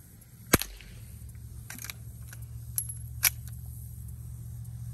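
A B&T Station Six 9mm suppressed pistol fires a sharp, fairly quiet shot, followed by a few softer clicks and a couple of lighter pops over a steady low hum.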